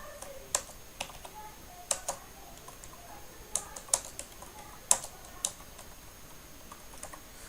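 Keys on a computer keyboard click one at a time at an uneven pace, close and quiet in a silent room.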